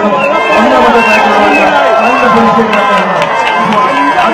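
A crowd gathers for the Thrissur Pulikali tiger dance festival in light rain, a loud, dense street hubbub with chatter, cheering and shouting voices blending throughout.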